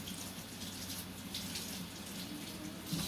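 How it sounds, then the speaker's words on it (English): Tap water runs steadily onto a paper towel strip being wetted for baking a carrot cake, a soft continuous splashing hiss heard close and fairly quiet throughout. "So you just wet the strip."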